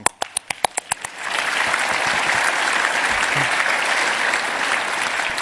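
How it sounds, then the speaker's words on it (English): At a hacker conference talk, a handful of sharp, separate claps open the moment before the whole audience joins in a dense, steady round of applause that carries on for several seconds. "They need a round of applause."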